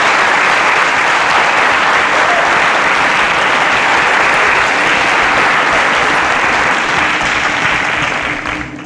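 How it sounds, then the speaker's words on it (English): A studio audience on a televised school quiz show applauds loudly and continuously for a contestant, a dense, sustained wash of clapping that tapers slightly at the close. "A round of applause for Happy."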